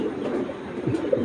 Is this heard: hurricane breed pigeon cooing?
yes